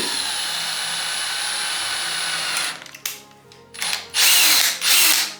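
A power drill drives a screw into pre-drilled wood while building a closet, with a sustained whirring hum that drops out briefly, then returns in loud, close bursts near the end.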